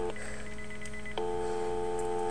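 A telephone sends steady touch-tone dialing beeps inside a house during a low-budget horror short. Two sustained tones start about a second apart and hold at a moderate level with no voices.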